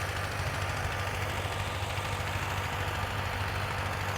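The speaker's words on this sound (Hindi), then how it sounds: "यहाँ 2 ट्रैक्टर आपको देखने को मिलेंगे जो इस समय खेत की जुताई करने में लगे हुए हैं।" Tractor engines working a field beside a sugarcane crop in an Indian village, a steady low diesel drone and knocking rumble running continuously at moderate distance, with no talking.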